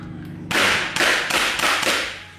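A Tokyo Marui-style airsoft gas blowback handgun with a non-metal slide fires about four quick shots, each a sharp, echoing crack with a snapping slide cycle, loud and close.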